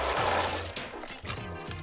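Dry chickpea pasta pours into a pot of water in a home kitchen, a rushing, splashy pour up close, with a few clinks and shifts in the flow before it settles.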